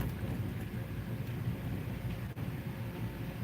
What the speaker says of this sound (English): Storm is storming.